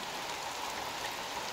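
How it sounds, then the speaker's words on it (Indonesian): Light drizzle falls near an oil palm plantation, a faint, steady hiss of fine rain that stays even throughout with no talking. "Ini kebetulan cuacanya gerimis ya"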